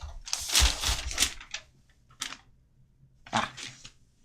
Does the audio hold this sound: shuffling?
yes